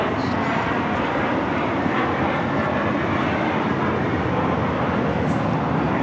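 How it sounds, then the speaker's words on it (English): A JetBlue Airbus A321 airliner takes off at Los Angeles International Airport with a loud, steady, broadband jet roar that holds for the whole span without a break. "This is JetBlue Airways Flight 100 taking off to Fort Lauderdale on the A321."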